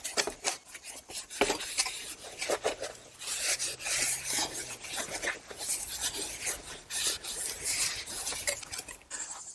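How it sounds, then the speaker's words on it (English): Wire brush scrubbing corrosion off the hub of a 2008-2016 Smart Fortwo Passion during a front brake rotor change, quick irregular rasping strokes, close and fairly quiet, with no talking. "just take a wire brush and get a little bit of that corrosion off of there"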